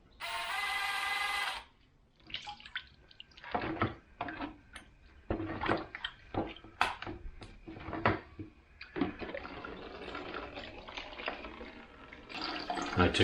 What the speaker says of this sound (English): And drain the coolant.